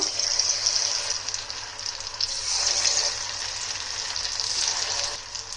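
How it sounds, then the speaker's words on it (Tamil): Batter-coated dough balls for munthiri kothu dropping into hot oil, giving a steady, fairly loud frying hiss and sizzle that swells and eases throughout, with no talking. "இப்போ வந்து இது எண்ணெயில் சேர்த்திக்கோங்க."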